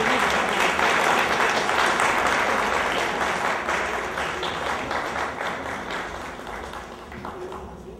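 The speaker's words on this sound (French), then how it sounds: "il faut l'applaudir très fort, il va s'asseoir." Loud, sustained applause from a crowd at a cultural evening in New York, dense clapping filling the hall for several seconds before gradually thinning, with some voices mixed in.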